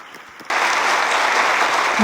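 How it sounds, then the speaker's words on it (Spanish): Loud, dense applause from an audience at a talk on historical photography, breaking out suddenly after a quieter moment and holding steady to the end. "Fuerte aplauso."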